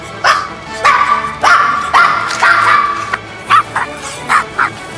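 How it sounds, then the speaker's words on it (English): A small Papillon puppy barks repeatedly, a run of sustained yappy barks followed by several short, sharp yips, loud and close. "barking might sound really adorable when they're little"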